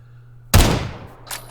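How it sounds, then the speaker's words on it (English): A single sharp gunshot in PUBG on the Miramar map cracks loudly and close, ringing out briefly before a fainter second report. "I'm hearing gunshots, hearing grenades going off"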